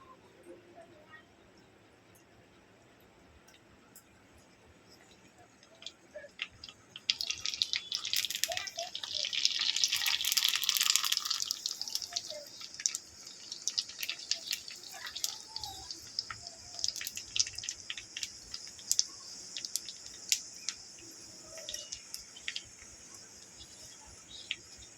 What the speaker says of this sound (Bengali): আর চলুন আমি এগুলোকে ভেজে নেব ফুচকাগুলোকে